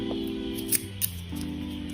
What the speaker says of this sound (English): Cut off the yarn for weave in, and on this part here I just cut it off